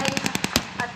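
Rapid rifle fire from airborne infantry lying down to shoot in a WW2 battle reenactment, a quick string of sharp cracks and bangs, close and loud, packed into about a second.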